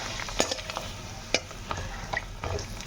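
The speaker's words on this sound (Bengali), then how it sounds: "আর এই যে এখন বড়ি ভেজে নিচ্ছি।" Bori lentil dumplings fry in a pan with a low, steady sizzle, broken by a few sharp scrapes and taps of a spatula.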